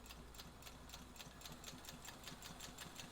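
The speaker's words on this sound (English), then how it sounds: "It's one of the quietest sewing machines I've ever come across in my years of doing this." A restored Singer 201 Centennial sewing machine, run by an analog button-style foot pedal, hums very quietly and steadily with a soft, even rhythmic ticking of the stitching mechanism, close and alone.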